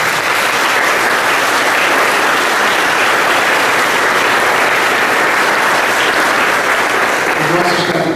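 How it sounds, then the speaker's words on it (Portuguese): A church congregation gives a round of applause for couples celebrating wedding anniversaries during Mass; loud, dense, sustained clapping throughout with a faint voice near the end. "Gostaria que dêssemos também uma salva de palmas por eles."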